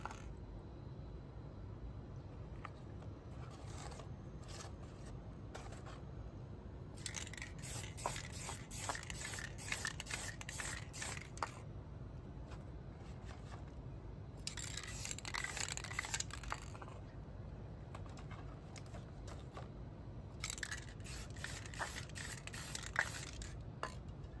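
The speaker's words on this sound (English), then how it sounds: "let's get these guys out and clear coated. I just hit them here outside, rotate them around" Clear coat sprays onto painted board game miniatures outdoors in three separate bursts of a few seconds each, a soft hiss over a faint steady background hum.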